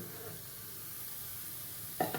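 Mushroom 65 deep frying in hot oil until crispy gives a steady, soft, bright sizzle throughout, with a brief clatter of a utensil near the end; no one speaks.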